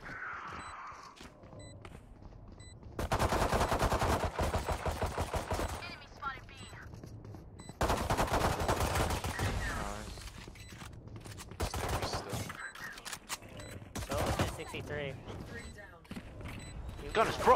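Rapid bursts of Valorant gunfire, loud and close, in several clusters of automatic shots with gaps between, while players talk over the action.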